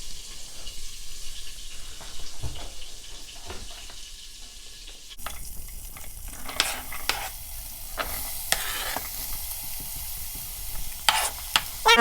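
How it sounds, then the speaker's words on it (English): Onion, garlic and peppers hit oil in a soup pot for a vegan lentil soup, a steady close sizzle that jumps louder midway and keeps crackling, with scattered stirring clinks. "you can go ahead and add your onion and your garlic and peppers."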